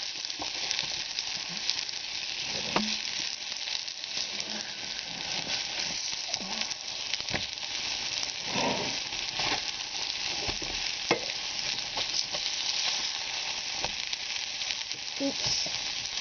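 Pan pizza cooks in a pan on a stovetop burner, giving a steady soft sizzle with occasional crackles and light scraping clinks throughout.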